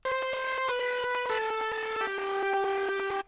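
A bright synth lead preset called Uppity, played in FL Studio, runs a steady melodic line with sustained tones and rhythmic pulses, loud and continuous, no voices.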